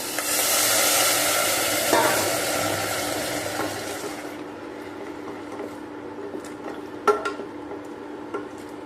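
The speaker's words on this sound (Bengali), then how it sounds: "এবার মাংসের টুকরো, আলু আর ক্যাপসিকাম, কাঁচা লঙ্কা দিয়ে দিচ্ছি অল্প একটু জল।" Meat pieces, potato, capsicum, green chilli and a little water go into a hot pot for a country chicken curry, with a loud broad sizzle for about four seconds that fades to a quieter simmer with scattered clinks of stirring.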